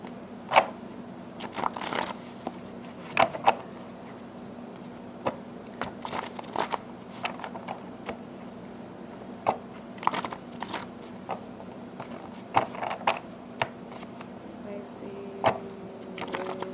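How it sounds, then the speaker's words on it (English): Tarot cards are shuffled by hand in repeated brisk riffles and slaps, near and crisp, with quiet pauses between bursts and a faint steady hum underneath. "Shuffle all three of these first, and then we'll just see what comes out."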